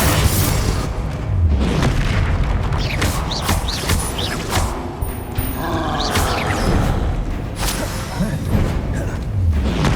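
Spell combat in Hogwarts Legacy on PS5: repeated Confringo blasts land as heavy booms amid whooshes and crashes, forming a dense, continuous stream of game sound effects.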